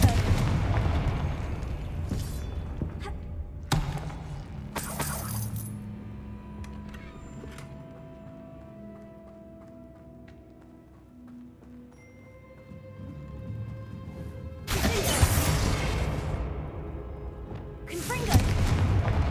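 Confringo spell blasts in Hogwarts Legacy: a few sharp, loud explosive bursts break over a quieter spell-casting ambience. One comes early, another cluster arrives near the end, and a voice is heard casting between them.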